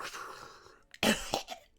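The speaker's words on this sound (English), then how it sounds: "I always just have the worst coughing fits." A person coughs in a short harsh burst, two rough hacks close together, loud and near, following a quiet stretch.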